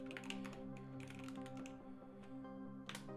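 Rapid, light keystrokes on a computer keyboard, short bursts of tapping close by with a steady hum underneath and no speech.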